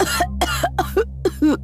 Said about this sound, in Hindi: उसकी माँ जोर से खांसने लगी।